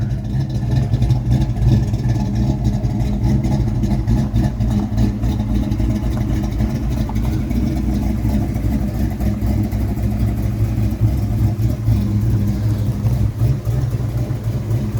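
Deep, throaty rumble from a 1993 Mustang SSP notchback, a former North Carolina State Police car fitted with an H-pipe, Flowmaster mufflers and new tailpipes, idling loudly up close with light blips of throttle in a continuous drone.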